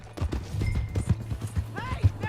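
Horse hooves clip-clopping in Red Dead Redemption 2, with a steady rapid beat heard close under overlapping shouted dialogue and a brief whinny toward the end.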